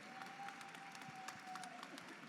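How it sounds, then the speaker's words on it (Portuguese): An audience at an indoor public talk gives steady, faint applause, a soft wash of many hands clapping at a distance, with a thin whistle-like tone running beneath it. "Uma salva de palmas."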